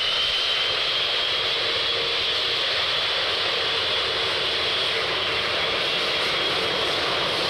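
A jet aircraft rolls along a runway with a continuous, even engine roar and a faint rising whine, heard alone and fairly distant.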